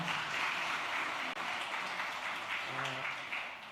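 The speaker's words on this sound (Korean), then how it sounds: "우리 따뜻한 격려의 박수로 함께 하겠습니다" Steady applause from a church congregation during a Sunday service after a special offering song, a dense even wash of clapping that fades slightly toward the end.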